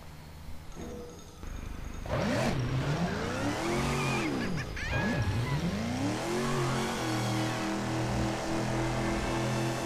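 A video-game car in Disney Infinity revs and sweeps through pitch changes as it drives, its engine tone rising and falling in loud swooping arcs with a steady drone underneath.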